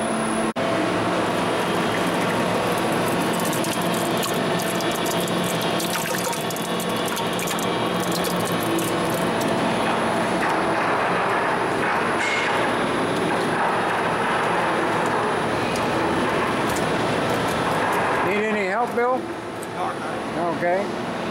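A machine processing crumb rubber through a screen, running at 60 hertz with its cone closed at 15 psi: a loud, steady mechanical rattle and hum that continues throughout, with speech over it.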